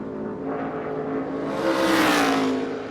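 A 2013 NASCAR race car engine revs hard during a qualifying lap, its pitch climbing and then falling as the throttle opens, loud and close with a steady roar.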